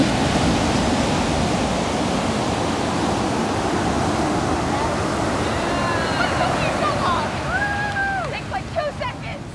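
Broadband surf noise of ocean waves washing onto a beach on a bright day fills the scene steadily, with faint birdcalls chirping near the end.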